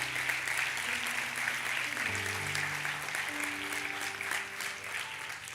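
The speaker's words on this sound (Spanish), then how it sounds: "Dale un aplauso al Señor" A church congregation applauds steadily for several seconds, the even crackle of many hands carried over sustained, shifting keyboard notes.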